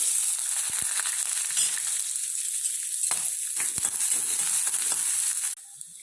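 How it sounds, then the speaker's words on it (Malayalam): Onions with mustard seeds and urad dal sautéing in hot oil, with green chilli and ginger, give a steady close sizzle and frying crackle with scattered pops and stirring scrapes that drops off sharply near the end. "ലേശം കടുകിട്ട് പൊട്ടിക്കുക, എന്നിട്ട് ഇതെല്ലാം ഇട്ട് വഴറ്റുക."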